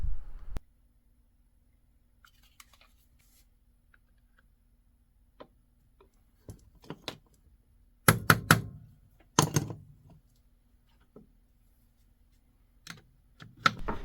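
Small metallic clicks, taps and scraping bursts of a screwdriver working screws out of a Mauser Carcano rifle, close and intermittent, with quiet pauses between clusters of handling noise.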